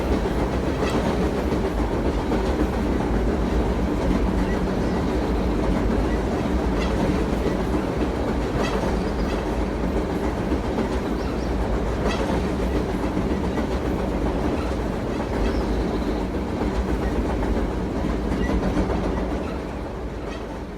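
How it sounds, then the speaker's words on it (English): A freight train rumbles past steadily and loudly, with rolling clatter from wheels on rails, fading slightly at the very end. "At the very back of the train is the MSRX OCS train."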